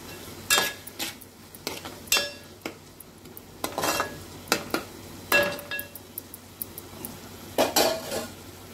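Onion and tomato sautéed in a pan with a pinch of salt, heard as repeated metal spatula scrapes and clinks against the pan over a soft background, about a dozen close, uneven strokes.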